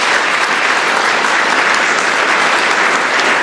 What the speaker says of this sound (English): let's give a big round of applause and thank you to our wonderful panelists